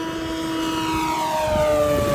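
Propeller engine of an RQ-7 Shadow RC airplane at full throttle, a loud steady buzzing drone with a slight pitch rise as it flies past fairly close, alone without voices.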